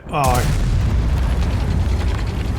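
A long-range tank gun shot in a WarGaming video game opens with a sudden boom that swells into a loud, sustained rumbling roar lasting a couple of seconds.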